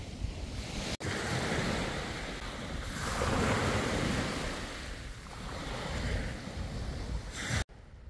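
Waves wash onto the seashore at Küçükkumla in Gemlik, a continuous roar of surf swelling and easing, heavy wind buffeting the microphone, with two brief dropouts in the sound.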